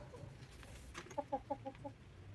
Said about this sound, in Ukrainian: І бачите, курочка сіла нестися.